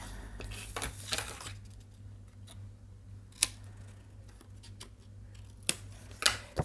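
Scissors snip the corners off folded paper for a scrapbook album, a few sharp, quiet cuts spaced apart against a low steady hum, with no talking.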